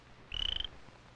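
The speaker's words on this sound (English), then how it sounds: "the frog's voice can be heard a long way off" A small frog gives a single loud, buzzy croak lasting about a third of a second, pulsing rapidly and standing out clearly against a quiet background.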